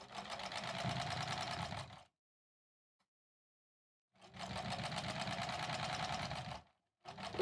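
A sewing machine stitching quilt blocks joined with sashing strips runs in two long steady bursts of rapid, even whirring with a pause between, then starts a third burst, close and fairly quiet, with no voices.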